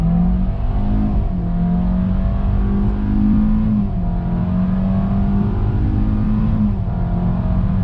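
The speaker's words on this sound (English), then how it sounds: "acceleration test from a dead stop on throttle" A 2020 Hyundai Venue crossover with a CVT pulls away from a dead stop under throttle, its engine droning steadily and loudly from inside the cabin, the tone rising slightly then dipping and climbing again, with no talk.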